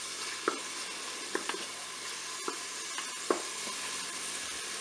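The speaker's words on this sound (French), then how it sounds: "Je vais faire dorer mes oignons." Onions frying in hot oil in the pot of a Cookeo multicooker, a steady low sizzle with occasional sharp crackles and pops, faint and close, with no voices.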